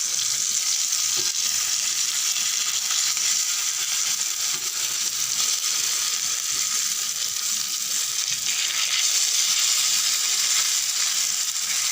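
Pomfret fish frying in oil in a pan, giving a steady, dense sizzle that hisses evenly throughout without pauses and without any voices.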